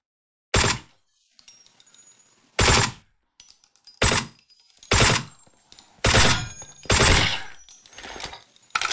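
Gunfire from the video game Deathly Stillness comes as six sharp bursts of shots separated by short pauses, loud and close, with faint clinks and quiet game sounds between them.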